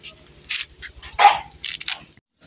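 Golden retriever and beagle puppies bark and yip in quick, scattered bursts while playing with a ball outdoors on soil, several sharp close yelps over about two seconds with faint background noise.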